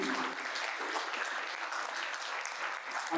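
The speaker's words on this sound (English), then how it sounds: "Clap for that," An audience at a talk with RZA at the Legacy Centre of Excellence breaks into warm, steady applause, many hands clapping in a continuous even wash for about three seconds.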